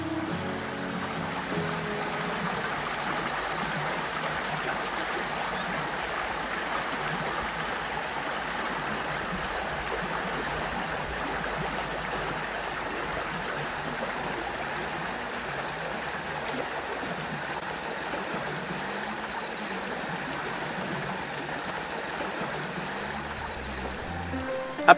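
A small stream flows steadily beside a bivouac, a constant close rushing and babbling of water with no other sounds.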